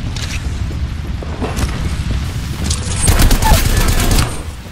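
Video game gunfire in a combat shooter, bursts of rapid shots and dull booms cracking in clusters, loud and close, intensifying toward the end.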